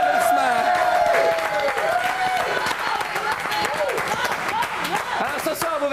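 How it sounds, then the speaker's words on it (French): Audience applause at a televised evening fashion show event, steady clapping mixed with crowd noise and music for about six seconds, loud and continuous. "Bon applaudissement."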